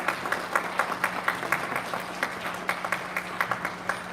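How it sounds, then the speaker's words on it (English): An elementary school audience claps for STEM award winners at a student recognition ceremony, a moderate patter of scattered hand claps with distinct individual smacks, fairly close and unaccompanied by talk. "big round of applause for our STEM winners"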